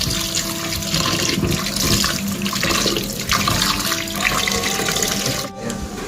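Food washed under a running kitchen tap, a loud, close, steady gush of water splashing into a sink, with brief shifts as the flow is interrupted near the end.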